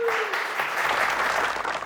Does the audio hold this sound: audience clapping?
yes